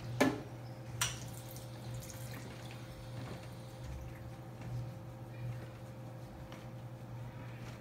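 Faint running tap water as hands are rinsed free of soap at a sink, with a steady low hum underneath, a couple of sharp clicks and soft splashes.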